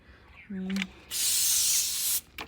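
A short voiced sound, then a sustained hiss of a hand sprayer lasting about a second, followed by a quick second spurt.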